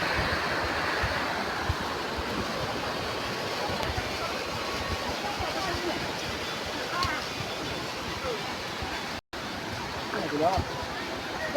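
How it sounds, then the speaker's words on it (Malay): The waterfall at Air Terjun Rayap in Kuta Makmur gives a loud, unbroken rush of falling water close by. It stays steady throughout, with a faint murmur of voices mixed in. "Di sana air terjun."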